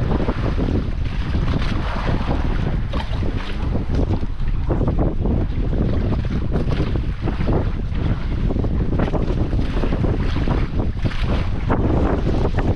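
Constant roaring wind buffets the microphone while big sea waves churn and slap around a moving boat, loud and unbroken throughout.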